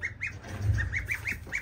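A goose honks repeatedly in a quick series of nasal calls, with low farmyard rumble underneath.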